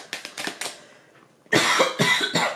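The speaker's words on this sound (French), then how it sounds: "C'est la bougie qui me fait tousser." A woman coughs from candle smoke in short bursts, a cluster of quick coughs, a brief pause, then a louder, harsher fit of several coughs close to the microphone.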